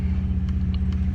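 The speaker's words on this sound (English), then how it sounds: "Now I'm gonna give it a little gas so y'all can see what it really looked like" A Dodge Journey engine idles with a steady low rumble, then picks up briefly as the gas is tapped, heard up close with no talking.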